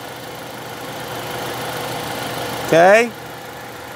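A car engine idling with the air conditioning switched on, a steady low hum throughout, briefly covered by a short spoken word near the end.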